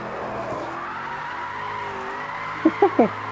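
Tyres skid and squeal as a Ford Mustang RTR drifts in the Project Cars 2 racing game, with a steady engine drone and three short, sharp squeal bursts near the end.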